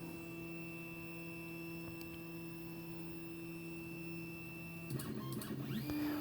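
A Carverall K15 Pro laser engraver powering up, a steady electrical hum with high whine holding constant, then a brief burst of stepper motor movement and clicks as it starts homing.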